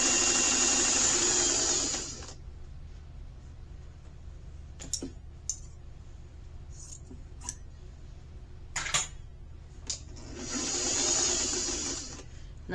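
A sewing machine stitches fabric scraps in a fast, whirring run for about two seconds. Scattered clicks and handling noises follow, then another short burst of stitching near the end.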